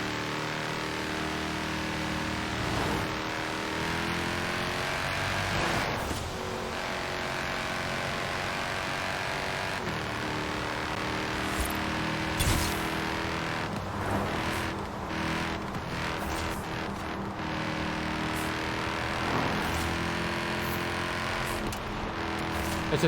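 A car engine drones steadily while driving in Forza Horizon 4, with a rising and falling tone that stays continuous at moderate volume throughout.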